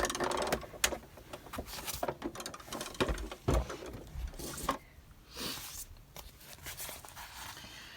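A domestic sewing machine runs in short close bursts of rapid stitching, stopping and starting, as it sews around the flap of a fabric envelope folder with no talk.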